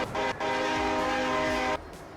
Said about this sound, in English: I'll use my own horn. Train horn anyway.